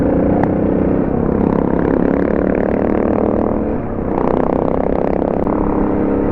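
A Suzuki DR 650 motorcycle rides past on a wilderness trail, its steady engine drone loud and close throughout with a brief dip as it passes before building again.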